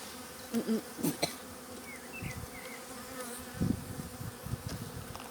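Honeybees buzz in a low, continuous drone close by at a hive being moved from a nucleus box to a full hive, with occasional louder hums as individual bees pass near, and some faint handling noises.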